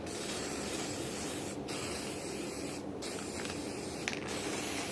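Blue touch-up paint hisses from a spray can in a steady continuous burst with a few short breaks, close and fairly quiet, while a lifted Mustang gets worked on; nobody speaks.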